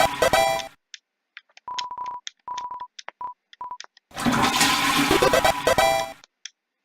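A toilet flushes in the video game Deltarune, a loud rushing swell lasting about two seconds that follows a run of short electronic beeps and tones.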